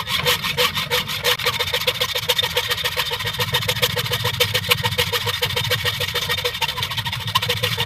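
A hand saw cuts rapidly back and forth through a small stopper piece for a pitcher pump's seal valve, strokes fast and rhythmic, loud and close, with a low motor-like hum underneath.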